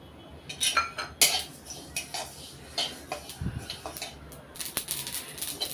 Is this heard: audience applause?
no